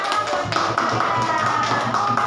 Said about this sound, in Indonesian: Hebat, tepuk tangan ya